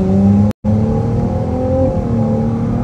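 A Ferrari 296 GTB pulls away on a drive with a loud, close engine drone from inside the car, briefly cut at one point, then a steady rising tone as it accelerates.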